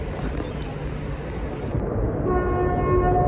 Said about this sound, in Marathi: फायनली ट्रेन आली.